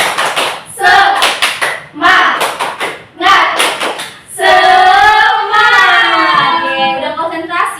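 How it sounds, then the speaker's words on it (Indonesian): Children clapping hands in a classroom, a few brief bursts of claps mixed with thumps, while voices talk and chant loudly over and between them. "Tepuk tangan dulu."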